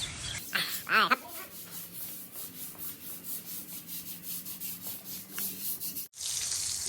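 Tiles are scrubbed with clean water while grout and cement stains are removed, giving a close, rhythmic back-and-forth rubbing with a few louder scuffs and a brief splashy burst near the end.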